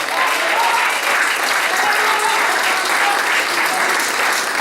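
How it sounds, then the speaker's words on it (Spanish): A church congregation claps together in steady, dense applause that fills the space at an even level from start to finish, with no voices standing out. "Y le fuerte el aplauso al Señor."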